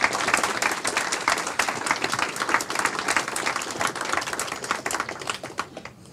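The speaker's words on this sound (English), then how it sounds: "Let's give them a big round of applause." Audience applauding jazz musicians at a live set, dense, lively clapping that fills the room and thins out toward the end, with no talking.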